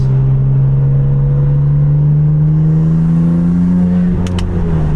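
A BMW F80 M3 fitted with titanium front-mount intakes drives with its windows cracked, giving a loud, steady engine drone heard from inside the cabin, with a brief shift and a change of pitch near the end.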